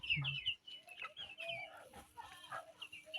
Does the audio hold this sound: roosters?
yes